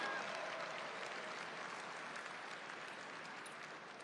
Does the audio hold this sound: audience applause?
yes